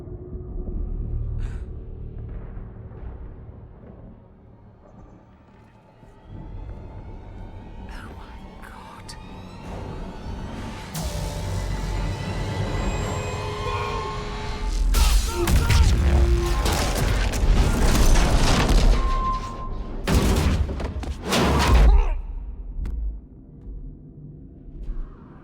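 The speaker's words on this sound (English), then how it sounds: "Earth is suddenly bombarded" Earth comes under bombardment in the video game Mass Effect 3, with a building low rumble that breaks into heavy, crashing explosions and debris bursts, loud and dense near the end, beneath faint voices.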